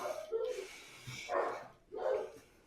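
Neighbors' dogs bark outside, a few soft, distant barks and yips spaced out over a couple of seconds.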